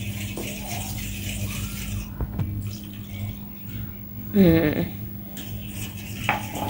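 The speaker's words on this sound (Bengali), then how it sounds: "সবটুকু দিয়ে ভালোভাবে নাড়াচাড়া করিলাম" Milk being stirred into pudding mixture in a pot, wet sloshing and spoon scraping against metal close by, with a brief liquid pour and steady kitchen background.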